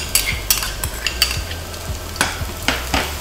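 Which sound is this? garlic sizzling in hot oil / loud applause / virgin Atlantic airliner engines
garlic sizzling in hot oil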